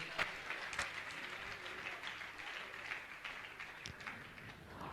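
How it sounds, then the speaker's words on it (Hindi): An audience at a religious gathering claps to honour guests, a faint, steady spread of applause lasting several seconds with a few sharper claps standing out. "मैं चाहूंगा इनके सम्मान में आप सभी जोरदार ताली बजाकर इनका सम्मान करें"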